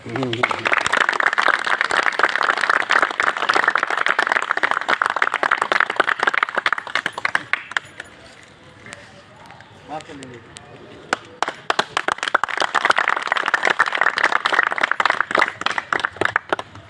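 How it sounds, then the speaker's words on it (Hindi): Audience applause at a gathering, sustained dense clapping from many hands that dips briefly in the middle and then swells again, loud and close. "थोड़ा तालियां भी बजनी चाहिए सबको"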